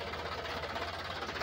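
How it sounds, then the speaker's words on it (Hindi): A tractor rumbles past on a rural road, its engine giving a steady, rhythmic low chugging that stays fairly loud and close throughout with no one speaking. "ट्रैक्टर जा रहा है।"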